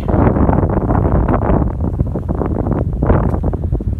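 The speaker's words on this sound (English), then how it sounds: "it is windy." Strong wind from the tail end of Storm Eleanor buffets the microphone in woods, a loud, continuous roar with gusty rumbling throughout.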